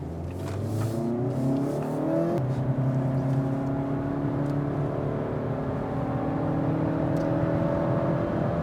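A small car engine, a 2024 Mazda 2 facelift in sport mode, revs hard and climbs through the gears, a steady loud drone rising in pitch with a brief shift partway through.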